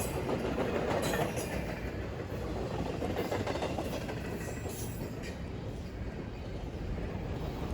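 An Indiana Railroad train rolls past close by, a loud continuous rumble with rhythmic clickety-clack of wheels over rail joints and a steady hiss, holding level for the whole pass without any voices.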